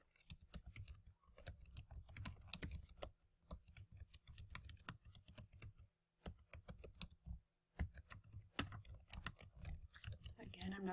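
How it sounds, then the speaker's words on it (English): Someone types a paragraph on a computer keyboard, giving quick, uneven bursts of close clicking keystrokes with brief pauses between runs. "So I'll change back and I'll type this paragraph here."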